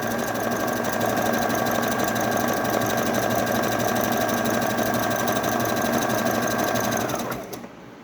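A sewing machine runs a steady, continuous zigzag stitch along the hem of a synthetic skirt or umbrella gown. The whirring motor holds at an even pace, then slows and stops near the end.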